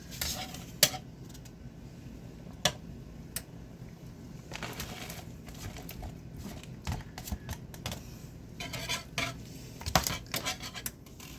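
Spoon scrapes and clinks against a pot as cheeses are stirred into a bubbling sauce, irregular metallic taps and scrapes close up, busier toward the end.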